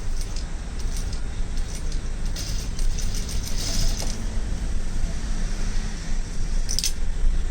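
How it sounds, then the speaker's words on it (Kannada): A sewing machine stitches a blouse with a continuous rapid mechanical whir and fine rattling ticks. It stays close and steady, with no talking. "ಈಗ ಮತ್ತೆ ಅಲ್ಲಿ ಒಂದು ಸ್ವಲ್ಪ ಇನ್ನೊಂದು ಸ್ಟಿಚ್ ಹಾಕ್ತೀನಿ"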